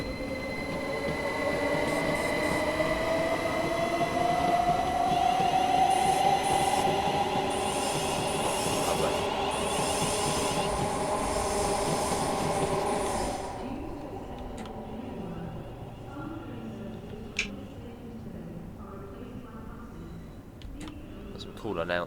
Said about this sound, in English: There goes the Gatwick Express.